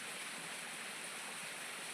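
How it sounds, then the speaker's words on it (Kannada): Waterfall flowing at Bhairapura village near Gajendragada, a dense, steady rush of falling water, close and loud, filling the whole moment without any voices. "ಇಲ್ಲಿ ಒಂದು ಜಲಪಾತ ಹರಿತಾ ಇದೆ ನೋಡಿ"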